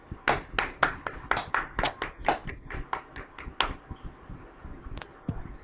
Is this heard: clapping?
yes